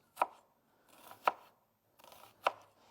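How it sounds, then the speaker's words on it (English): A knife cuts down the ridges of an onion on a board, three crisp separate chops about a second apart, close and quiet with short pauses between them. "So you're going to cut down the ridges."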